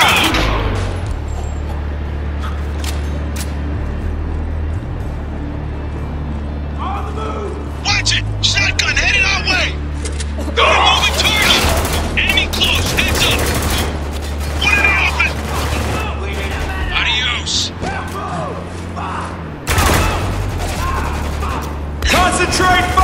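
Gunfire in the military shooter Spec Ops: The Line, with loud rapid volleys and bursts of shots over heavy combat rumble, while squad members shout to each other.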